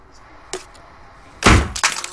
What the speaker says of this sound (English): The bees came back and I broke the phone.